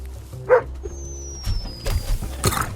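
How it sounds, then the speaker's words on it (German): A dog in the video game Squirreled Away gives a few short, sharp barks and yips, separate bursts spread across the moment, mixed with other game sounds and a faint whistling tone. "Da ist er wieder, der Hund."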